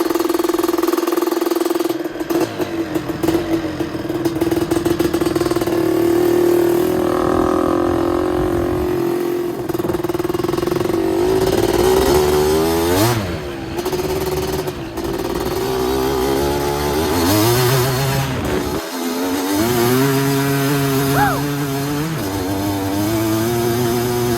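A 250R engine drones close and loud throughout a drive, a steady buzzing hum that swells and dips as it revs up and eases off several times, with wind rush and no speech.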